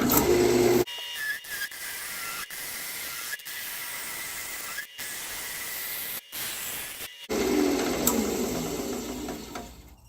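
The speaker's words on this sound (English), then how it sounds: "Always make sure your lathe is clear. It's not going to hit anything before you turn it on." A wood lathe spins a cherry and walnut vase blank, giving a steady hissing whir broken by brief sharp dropouts, close and fairly loud, with a fuller rush at the end.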